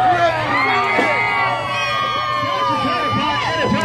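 A wrestling-event crowd cheers and whoops at a fight night, excited shouts and high voices rising over a steady hum of the audience, close and lively throughout.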